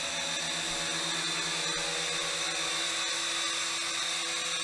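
A 3-channel RC helicopter hovers slowly indoors in the middle of a room, its motor and rotors giving a steady, loud, high-pitched whine that holds constant throughout with no pauses.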